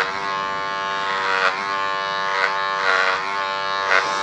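Electric hair clipper fitted with a guard comb, number 2 length, cutting hair on the side of a head during a rectangular-face haircut. Steady close buzzing hum throughout, with brief brighter swells as the blades bite through hair.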